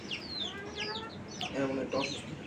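A rooster clucks repeatedly in short bursts, close by, with some indistinct background noise.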